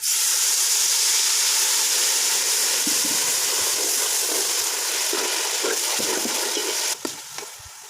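Water added to a hot pot of cooking beef paya (trotters) gives a steady loud hissing sizzle, continuous throughout, with a few small pops and clinks near the end.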